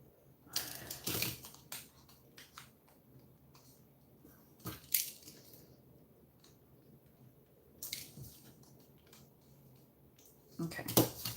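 Paper being sliced for fussy-cut florals at a scrapbooking table, a few short crisp cutting strokes spaced out between quiet pauses, close and fairly soft.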